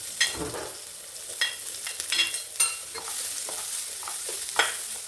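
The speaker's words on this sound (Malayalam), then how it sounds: "സവോള നന്നായിട്ട് വഴറ്റിയെടുക്കാം" Sliced onions sizzle steadily in hot oil over high heat while a spoon scrapes and stirs the pan in short, irregular bursts.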